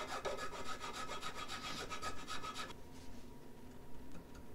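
A file rasps back and forth in a guitar nut slot with quick, rhythmic scraping strokes for under three seconds, then stops, leaving quiet room tone.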